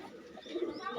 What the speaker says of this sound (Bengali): এই দেখেন ভাইয়ের কবুতর কালেকশন।